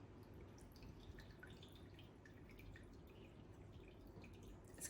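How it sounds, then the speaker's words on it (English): Whey drips from cheese curds that are draining, heard as faint, scattered little drops over a low, steady background hum. "Or you can just sit there and let it like drip,"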